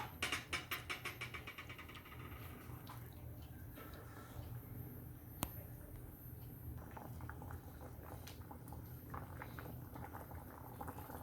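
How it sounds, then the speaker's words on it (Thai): Canned fish curry sauce bubbles at a gentle simmer in a pot, with soft continuous popping and a few faint clinks early on. "ต้มไปนี่ เปิดไฟไปนี่จักสามนาที"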